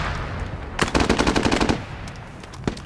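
Video-game war scene with a BMP armoured vehicle firing on a machine gun position: a rapid burst of about a dozen loud, close automatic shots, followed by a couple of scattered single reports against a background rumble.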